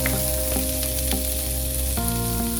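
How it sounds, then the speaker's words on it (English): Onions sizzle and spit steadily in hot oil tempered with a piece of cinnamon stick, a few cloves and cumin seeds, a continuous close frying hiss with a few brief crackles and a low steady hum beneath. "Allow this to splutter and I'm adding the onions."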